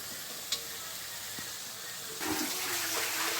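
Homemade onion-garlic masala roasts in oil with a soft, steady sizzle, faint at first and then turning noticeably fuller and louder midway, marked by one small early click.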